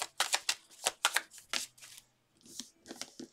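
Tarot cards being shuffled during a card reading, several quick riffling bursts close to the mic, separated by short pauses and a brief near-silent gap.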